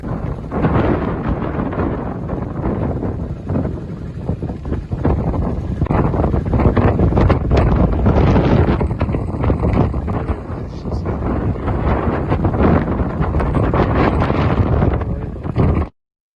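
Strong sandstorm wind in Rajasthan roars continuously, a loud broadband rush buffeting the microphone with constant gusting rumble throughout, no voices heard.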